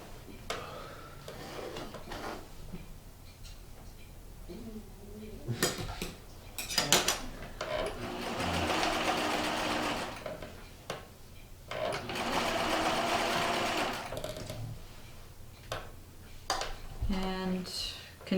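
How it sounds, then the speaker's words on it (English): A sewing machine stitching around the edge of a pillow, running in steady buzzing bursts of several seconds separated by pauses, with someone talking quietly between runs. "And continue sewing around till you meet up where you started"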